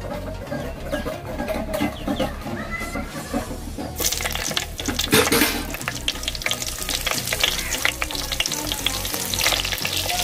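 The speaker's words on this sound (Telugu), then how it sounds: "మనం ఇప్పుడు కాకరకాయలు అందులో వేసుకుందాం." Bitter gourd pieces dropped into hot oil in a pan, frying with a loud, dense crackling sizzle that swells sharply after a few seconds and stays busy and close, with no talk.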